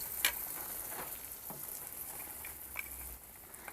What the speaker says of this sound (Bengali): নিয়ে এটাকে আমি এখন গরম তেলে দিয়ে দেব